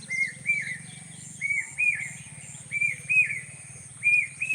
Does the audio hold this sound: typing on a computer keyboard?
no